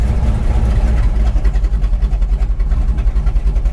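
A 1965 Chevrolet Malibu SS runs with its exhaust cutouts open, giving a loud, close, deep rumbling idle with a lumpy, pulsing throb and slight revving swells.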